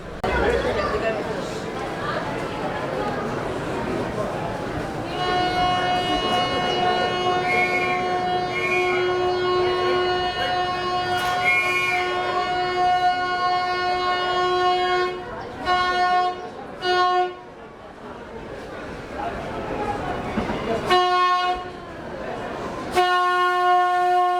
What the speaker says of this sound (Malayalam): ഇതൊരു മൗണ്ടൻ ട്രെയിനാണ് പഴയ ആവേഞ്ചിൻ ഉപയോഗിച്ചൊക്കെ പോകുന്ന ഒരു ട്രെയിനാണ്